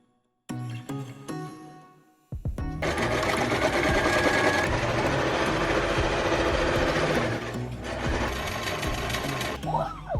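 A sewing machine runs steadily, stitching the seams of a fitted dress bodice with boning and puffy sleeves. Its whir is loud and close, with a few short bursts before a long continuous run of about eight seconds.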